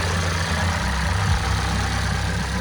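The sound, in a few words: car engine running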